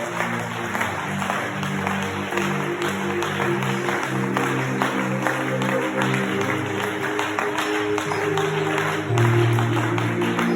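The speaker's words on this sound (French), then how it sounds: "On acclame encore plus fort pour le Seigneur" A church congregation at a prayer gathering claps and cheers for the Lord, with dense, steady applause over sustained music throughout and voices mixed into the crowd.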